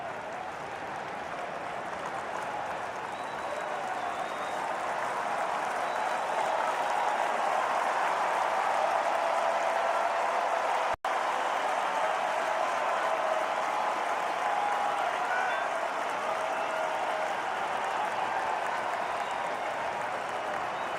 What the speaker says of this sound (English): this is an enormous crowd, much bigger than last night